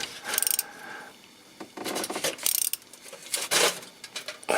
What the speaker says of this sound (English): So now you unscrew them.